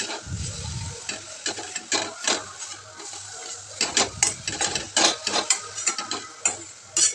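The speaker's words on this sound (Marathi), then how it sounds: "आणि ते पण छान असं परतून घ्यायचं, मिक्स करून घ्यायचं" Grated dried coconut and sugar for ladoo being stirred and sautéed in a pan: irregular scraping strokes of a spoon against metal with a soft sizzle underneath, fairly close and loud.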